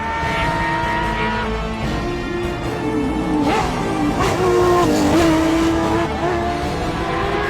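Rally cars, a Porsche and a Peugeot, race on a French championship rally stage; engines drone and rise with revving gear changes and faint tire noise, steady and moderately close throughout.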